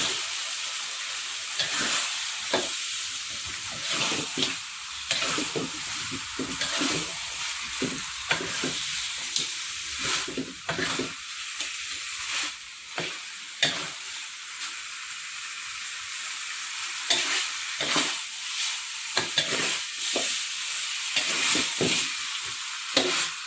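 Chicken being fried in red rendang spice paste, with a continuous close sizzle broken by frequent scraping stirring strokes for the whole stretch, and no voices.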